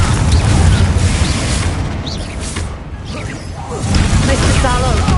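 Fiery Confringo spell blasts in the Hogwarts Legacy video game, loud booming bursts with whooshing, crackling debris at the start and again near the end, a quieter dip between.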